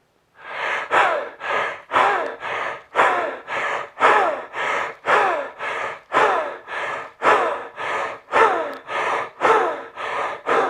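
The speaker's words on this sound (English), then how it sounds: "I want you to breathe into the chest through the mouth. We'll do like 10 breaths." Deep breaths are drawn into the chest through the mouth in a steady paced series, about fifteen loud close gasping inhales and exhales following one another in an even rhythm with no talking.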